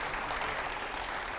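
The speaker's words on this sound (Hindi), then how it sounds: "जोरदार तालियां" Brief burst of dense audience applause at a Hindi-language public event, a loud, even wash of clapping with no pauses.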